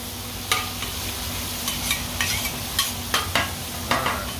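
Hamburger meat fries in a pan with a steady close sizzle, punctuated by repeated scraping clicks of a utensil stirring it around.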